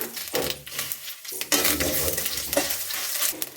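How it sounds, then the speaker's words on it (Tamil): Urad dal, dried red chillies, mustard seeds and cumin sizzle and crackle in hot oil in a pan, with a steady close frying hiss and stirring scrapes, no talking. "எண்ணெய் காஞ்சது ஒரு ரெண்டு ஸ்பூன் அளவு உளுந்து போட்டுக்கிறேன் காரத்துக்கு ஒரு ஆறு ஏழு வரமிளகா போட்டுக்கிறேன்"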